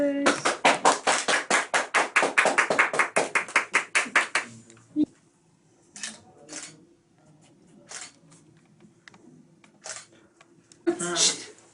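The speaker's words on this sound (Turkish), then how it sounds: "Alkış." Steady applause from a group at a birthday celebration after the candles are blown out, fast and loud for about four seconds, then fading into scattered claps and a few more bursts near the end.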